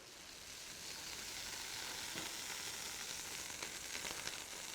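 Clarified butter sizzles on a hot Blackstone flat-top griddle just before eggs go down for an omelette, a steady, fairly quiet crackling hiss that holds even throughout with faint scraping and no talk.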